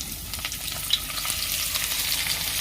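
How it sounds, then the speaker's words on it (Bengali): Turmeric-coated jackfruit pieces frying in white oil, a bright continuous crackling sizzle with small spits and pops, close and steady. "সাদা তেল হলুদ মাখানো এঁচড়গুলো ভেজে নেব"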